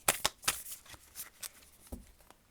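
A deck of oracle cards shuffled by hand, several quick papery riffles and slaps in an uneven rhythm, close and fairly quiet, with no talk over them.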